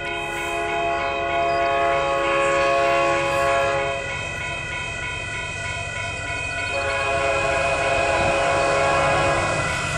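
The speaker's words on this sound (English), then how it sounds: "We got a train coming." Loud train horn blasts sound repeatedly as a Union Pacific freight train rumbles past nearby at a rural crossing in Saint Elmo, Illinois, wheels clattering steadily beneath the horn.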